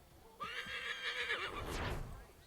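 A horse in the video game Assassin's Creed III neighs once, a loud drawn-out whinny that rises and wavers for about a second before dropping off into a snort and some hoof sounds.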